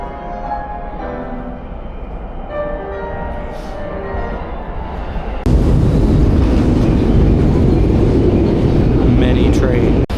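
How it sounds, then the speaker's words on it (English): A train pulls into a busy Tokyo station, its loud broadband rumble surging in around the midpoint and filling the platform. Earlier there is quieter station bustle with tonal chimes, and someone talks over the background. "Train is here quick"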